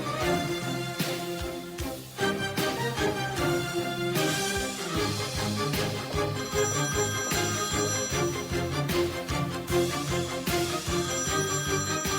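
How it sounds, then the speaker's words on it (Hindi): A telephone rings continuously for about twelve seconds in a Turkish drama scene, loud and steady over a dense tonal backdrop, with no one answering or speaking. "तुम फोन नहीं उठाओगे?"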